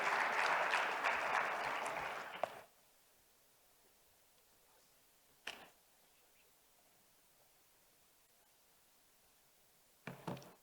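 Applause from an audience at a business forum at Global Expo Botswana 2023, fairly loud clapping that stops abruptly after about two and a half seconds, followed by near silence broken by two brief bumps.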